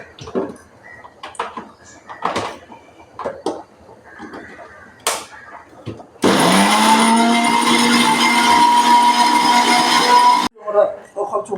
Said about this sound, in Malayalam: അപ്പോൾ അത് അരച്ചെടുക്കട്ടെ